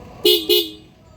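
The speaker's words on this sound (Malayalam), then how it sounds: "ഈ ഒരു ട്വിൻ ഹോൺ സെറ്റപ്പും കാര്യങ്ങളും ഈ ഒരു 150ൽ നമുക്ക് കിട്ടുന്നുണ്ട്" Two short, loud honks from the twin-tone horn of a 2025 Bajaj Pulsar 150 motorcycle, close by, fading quickly afterward.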